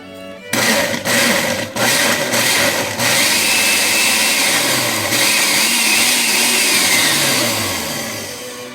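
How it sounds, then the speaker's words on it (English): A kitchen blender roars loudly, blending avocados for catfish fish tacos after a few short pulses, then runs continuously with its pitch shifting as the mixture churns before slowly winding down. "we're going to go ahead and blend this up"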